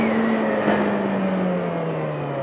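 A white Yamaha XJ6 motorcycle engine hums steadily while riding down a road, a close, loud tone sliding gradually lower as the bike eases off, with wind rush underneath.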